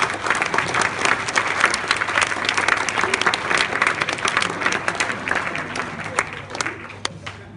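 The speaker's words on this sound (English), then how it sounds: "Can I please have a huge round of applause for them?" Applause from an audience at a school dinner fills the room, dense, loud and continuous for several seconds before thinning slightly toward the end, with some voices mixed into the crowd noise.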